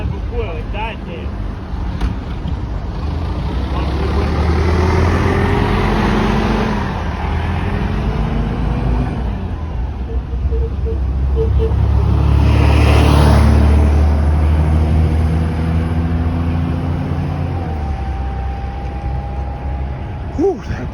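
A historic transit bus engine idles and revs at a bus festival lineup and parade, a loud low rumble that swells to a peak midway and eases off, with wind noise and people talking nearby.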